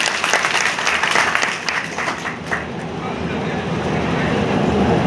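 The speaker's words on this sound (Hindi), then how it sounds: "एक बार हम सब लोग तालियां बजा करके उनका स्वागत करें।" A crowd at a public political gathering in Faridpur breaks into loud, dense applause that sustains evenly throughout, a broad wash of clapping close by and from all sides.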